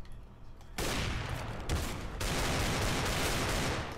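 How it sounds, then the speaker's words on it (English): Rapid automatic gunfire in Counter-Strike: Global Offensive bursts in loud and dense after a brief quieter start, continuing as sustained fire with a short break near the two-second mark. "I'm shooting way too much."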